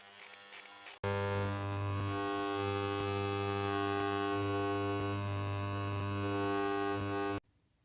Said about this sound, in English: I'll just pop them in the ultrasonic cleaner.